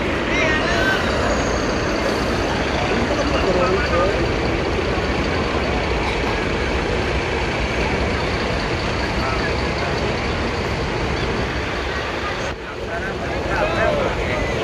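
Buses idling and manoeuvring at Mangkang bus terminal during a bus enthusiasts' gathering, a loud, steady engine rumble close by throughout with voices talking over it.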